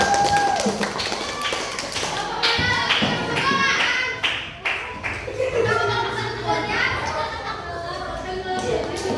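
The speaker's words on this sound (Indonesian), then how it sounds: "Tepuk tangan untuk kelompok" A class of schoolchildren applauds for a student group in a classroom, a burst of loud, dense clapping mixed with children's chatter and voices.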